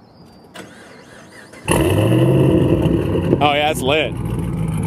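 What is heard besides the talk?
twin turbo Camaro engine revving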